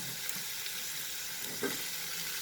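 Cauliflower and mixed vegetables with dried red chilies sizzling while frying in hot oil for a vegetable dal, a steady, close hiss with no talk.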